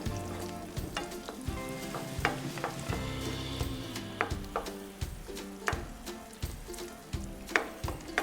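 Chilli chicken sauce with added water bubbling and sizzling in a pan on the stove, a continuous close hiss broken by regular knocks and scrapes of a stirring spoon.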